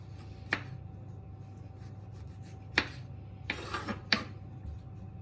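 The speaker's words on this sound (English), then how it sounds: "We're gonna get our tomatoes and a sharp knife and slice the top off." A sharp knife slices the stem tops off tomatoes, giving a few isolated crisp cuts spaced a second or two apart over a faint steady hum.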